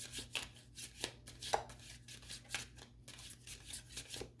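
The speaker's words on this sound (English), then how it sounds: "we shuffle on camera here" Tarot cards are shuffled in rapid, uneven riffling bursts, a close papery flutter repeating every half second or so over a faint steady hum, with no voices.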